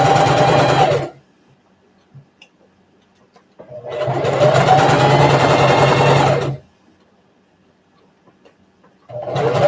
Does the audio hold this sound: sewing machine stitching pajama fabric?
yes